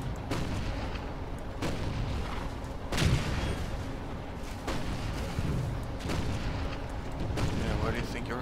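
Artillery fire and gunfire from toy soldiers in the Toy Soldiers video game: dense, continuous rumbling battle noise with repeated heavy booms at irregular intervals, loud and close, a voice faint beneath.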